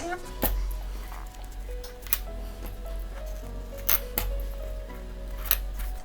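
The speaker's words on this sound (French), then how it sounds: "maintenant on coupe le surplus de tissu" Scissors snip through surplus fabric while sewing a lunch bag, giving a few crisp cuts close by under steady background music, with someone speaking.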